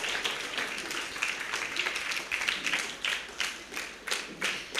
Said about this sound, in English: We are clapping until they sit.